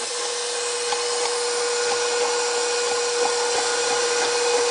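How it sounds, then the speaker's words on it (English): A KitchenAid Professional 550 Plus stand mixer running on its stir setting gives a loud, steady motor whir with a constant hum and no speech. "Enter the mixer to just the stir setting."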